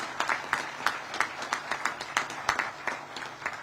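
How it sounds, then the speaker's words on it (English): Applause at a stadium groundbreaking ceremony, sparse and moderately distant, with distinct individual claps in an uneven rhythm rather than a dense roar. "let's give a round of applause to the entire Pegula family"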